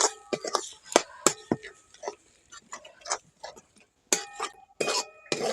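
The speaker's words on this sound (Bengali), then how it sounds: "হালকা আঁচে এটাকে কিছুক্ষণ নাড়াচাড়া করে ভেজে নিতে হবে।" Sliced flat beans seasoned with turmeric are stirred and fried in a pan over low heat, giving irregular sharp clinks and scrapes of a utensil against the pan with quiet gaps between strokes.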